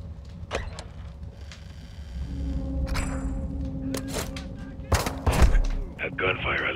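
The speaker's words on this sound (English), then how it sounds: "That gunfire alerted them." Gunfire in Call of Duty Modern Warfare 2 rings out as several sharp, scattered shots, then a tight burst of loud cracks near the end, over a low engine-like rumble and busy ambient noise.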